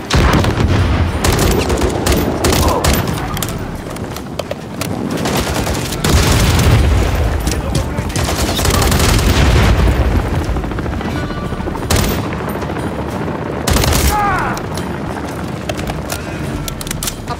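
Enemy gunfire rattles in Call of Duty Modern Warfare III, with loud bursts and booming shots through a dense, continuous battle din, punctuated by sharp impacts and a brief lull.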